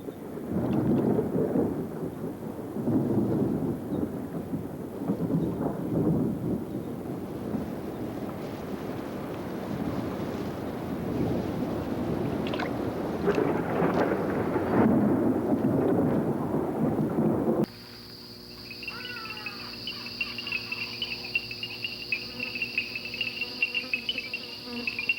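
A thunderstorm moves in with the first rains: low rumbling and steady wind-and-rain noise with insects chirping underneath, continuous for most of the span before giving way to music near the end.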